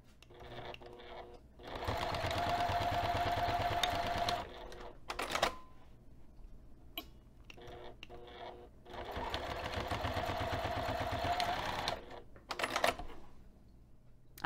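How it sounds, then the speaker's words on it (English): Sewing machine stitching through two layers of fabric while converting a bag into a sling backpack, running in two steady bursts of fast rhythmic needle clatter with brief pauses and small handling clicks between. "we're going to take this over to the sewing machine and sew 1/8 of an inch away and also 1/4 of an inch away"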